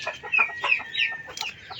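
A black hen, a double-yolk egg layer kept on a farm, gives a run of short, close clucks and bright squawky calls in quick succession, with no one talking.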